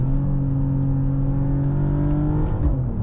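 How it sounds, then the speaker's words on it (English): Exhaust of a 2026 Mercedes-AMG GLE 53 Hybrid, a close, loud steady engine drone with clear tonal layers and a short dip and pop-like crackle near the end. "the sound is just wow. From the exhaust, especially these pops"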